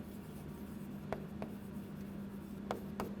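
Pen or chalk writing out a math problem, a steady scratchy stroke over faint room hum with a few sharper taps between strokes, close and quiet, no talking.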